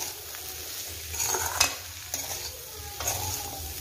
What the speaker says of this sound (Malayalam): അപ്പോൾ അതിനുവേണ്ടി നന്നായിട്ടൊന്ന് ഇളക്കി യോജിപ്പിച്ച് കൊടുക്കാം.